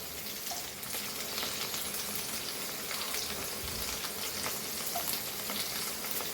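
Chili and garlic sizzle and crackle steadily in hot oil, a dense continuous frying hiss with occasional stirring scrapes, close and fairly loud, no voices.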